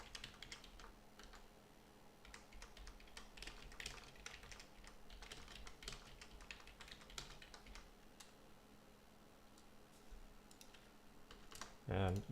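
Rapid clattering keystrokes on a computer keyboard, irregular bursts of clicks fading toward the end, followed by a single louder thump near the close.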